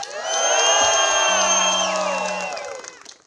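A festival crowd at an outdoor sports and tourism event cheering loudly, a swelling roar of many voices with whoops that peaks then gradually fades, carried alone without speech.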